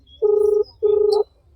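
A telephone call tone sounds twice, two steady beeps about half a second each separated by a short gap, clear and close, as a call goes unanswered and is cut off.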